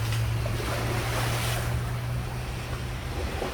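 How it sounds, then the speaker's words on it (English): Ocean waves washing onto a shore, a steady roaring surf with wind buffeting the microphone and a low constant rumble underneath, no voices. "Just nice and peaceful and just waves crashing and all and stuff."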